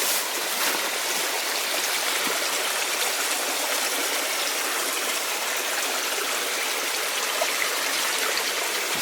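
Creek water rushes steadily past an abandoned stamp mill in thick wilderness vegetation. The broad, even flow runs loud and constant for the whole stretch, with no voices.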